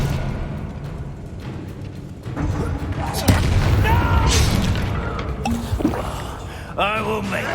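A spell cast in Hogwarts Legacy lands with booming, percussive bursts and shimmering magical swooshes amid busy combat effects, a voice calling out over the action.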